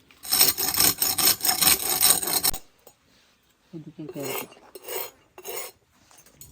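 A knife being sharpened with powdered stone: a long, loud, rough rasping stroke, a pause, then a few shorter grinding scrapes in bursts, with no talk over it.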